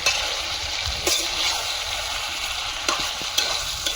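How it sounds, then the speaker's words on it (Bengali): Chicken sautéing in oil in a pan gives a continuous close sizzle, broken by a few sharp scrapes and clinks of a spatula against the metal, with no talking. "মাংস কষানো হয়ে গেছে তেল ছেড়েছে"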